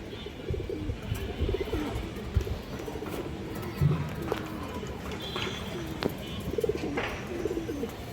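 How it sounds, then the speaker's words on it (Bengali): Pigeons at a pigeon seller's place coo in soft low repeated calls, heard close, with faint flutters and scuffles around them and a voice talking intermittently. "খুবই সুন্দর এবং অনেক চঞ্চল একটা কবুতর"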